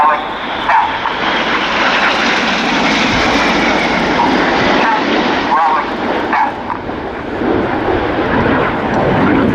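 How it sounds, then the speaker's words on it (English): Red Arrows display team jets fly overhead at the RIAT 2016 air show, a loud, continuous jet roar that rises and dips while a commentator talks over it. "Each of the pilots there pitching up to fly an aileron roll manoeuvre"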